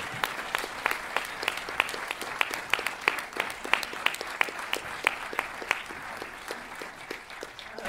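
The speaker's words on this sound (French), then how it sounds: "Donc, vous pouvez les applaudir à nouveau à la lumière." Cinema audience at a film presentation applauding the actors, a steady stream of crisp individual claps from a modest crowd in a hall, fairly close and continuous throughout.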